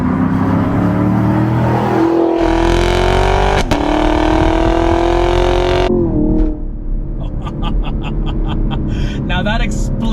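A sixth-generation Chevrolet Camaro SS with a 6.2 liter naturally aspirated LT1 V8 revs up into a loud, close exhaust roar, then drops back to a rumble with sharp blips near the end.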